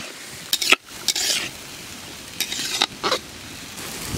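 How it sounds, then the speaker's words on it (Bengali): Potatoes fry with turmeric in a pan in a village kitchen, making a soft sizzle broken by several sharp scraping strokes and clinks of a spatula against the pan. "আমি ভালো করে আলুগুলোকে একটু ভেজে নিই"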